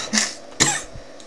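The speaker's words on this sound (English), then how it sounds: "Sorry about the cough, guys." Two quick, harsh coughs close to the microphone, one right after the other.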